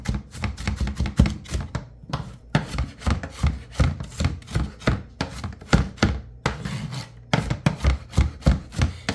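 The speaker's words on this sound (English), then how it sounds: "Just gonna chop all of this super fine." Knife finely chopping and mincing ingredients for pork on a board, rapid rhythmic close-up thuds in quick bursts with short pauses between runs.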